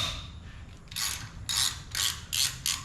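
A ratchet loosens bolts on the alternator bracket of a 1965 GTO, making about five short, loud bursts of rapid clicking close by, each separated by a brief pause.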